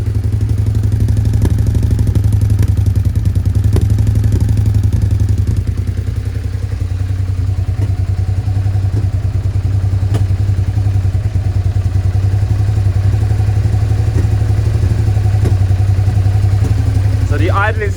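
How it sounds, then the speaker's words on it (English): A Suzuki SV650S motorcycle engine idles roughly with its airbox fitted, a loud, steady, close-up rumble that runs throughout with faint irregular popping. "We can still hear some popping."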